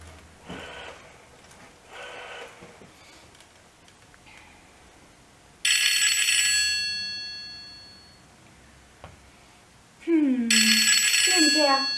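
A toy telephone rings in two loud bursts of high, bright bell tones, with a cartoonish bouncing tone and quieter talk between them in a children's play setting.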